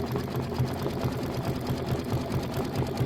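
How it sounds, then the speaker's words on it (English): An embroidery machine stitches a mini quilt with a continuous, rapid needle chatter and motor hum, close and steady. "We have about 6 more minutes left of stitching."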